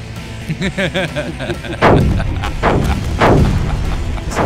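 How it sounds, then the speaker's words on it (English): A missile drive fires in the Space Engineers video game, opening with a quick series of short pulsing tones, then three loud booming blasts with rumbling tails, close and heavy. "I am now using missile drive to get to orbit."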